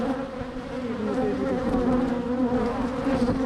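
Honey bees buzz in a dense, steady swarm as they are shaken off a hive frame, loud and close, with a constant droning hum throughout.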